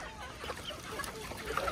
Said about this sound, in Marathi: खरोखर खूप कोंबड्या आहेत